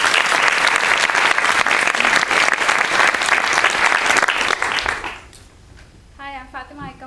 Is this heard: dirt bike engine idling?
no